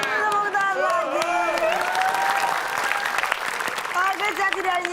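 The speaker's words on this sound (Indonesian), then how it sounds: "Kasih tepuk tangan lagi" Studio audience at an Indonesian comedy show applauding and cheering, continuous clapping with whoops and shouts over it, and voices speaking loudly on top.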